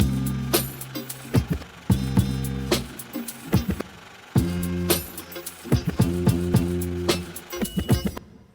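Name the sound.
stutter effect on sample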